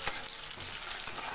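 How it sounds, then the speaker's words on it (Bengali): Chopped tomato and onion fry in hot mustard oil in a pan, giving a brief, soft, steady sizzle with no voices. "টমেটোটা একটু ভাজা ভাজা করব।"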